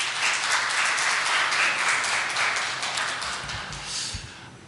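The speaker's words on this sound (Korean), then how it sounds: "우리 스카스에게 큰 격려의 박수 부탁드립니다." A church congregation applauds a foreign singer who has just sung a hymn, steady dense clapping filling the room and slowly thinning toward the end.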